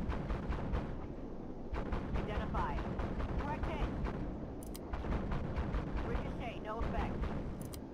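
Tank cannon fire in the Armored Warfare video game, heavy booming blasts fired repeatedly in a rough rhythm, loud and close, with rumbling battle noise between shots.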